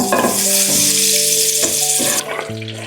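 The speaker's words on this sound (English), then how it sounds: "Olive oil, butter, and garlic in the pan first." Olive oil, butter and garlic sizzle loudly in a pan, a steady close crackle with stirring scrapes and clinks breaking through now and then, no voices.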